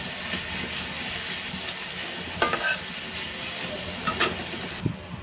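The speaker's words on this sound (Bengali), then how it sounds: "তারপরে ছোটো ছোটো এমনি কেটে এবার ভালো করে ভাজতে হবে" Chopped vegetable frying in a pan with garlic, green chilli and cashews gives a steady close sizzle, with a few sharper scrapes and clicks as the mixture is stirred.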